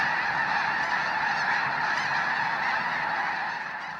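A large flock of snow geese honks in a dense, continuous chorus of overlapping calls, loud and close, with no other sound standing out.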